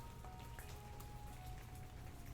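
Steady rain falling in a lantern-lit city by the shore, a soft, dense hiss of drops on surfaces with a faint low tone underneath.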